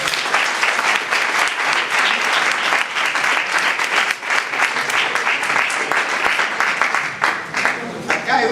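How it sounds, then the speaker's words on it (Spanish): Loud, sustained applause from a lecture audience after a talk on Athenian democracy, dense clapping filling the room steadily from start to finish with a slight fade at the end. "Fuerte aplauso."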